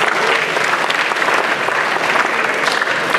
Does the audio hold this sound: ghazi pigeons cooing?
no